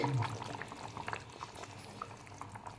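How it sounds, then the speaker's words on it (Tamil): Tamil-style dry mango and okra vathal kulambu bubbling steadily in a pot, a soft continuous simmer with small pops and bursts, close and moderately loud with no talking. "அது ரெண்டு நிமிஷமாக நல்லா கொதி வந்துட்டுருக்கு"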